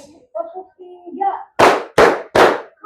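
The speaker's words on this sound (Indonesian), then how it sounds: "Oke, tepuk tangan untuk E1" A school class claps in rhythm, giving three sharp, loud unison claps evenly spaced just over a third of a second apart, with a fourth starting at the end, after a voice talks briefly.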